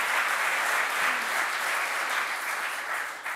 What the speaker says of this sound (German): Einen großen Applaus bitte für Christina Rann